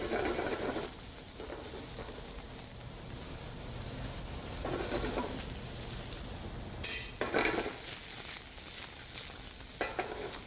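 Zucchini and summer squash sauté in a pan, a soft continuous sizzle broken by occasional stirring scrapes and utensil clinks, close but low in level, with no talking.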